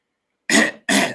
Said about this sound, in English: just have to clear my throat there for a second